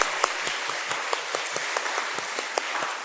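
A church congregation at a Wednesday worship service applauds warmly, a sustained, even roar of many hands clapping, with a few sharper claps standing out near the front.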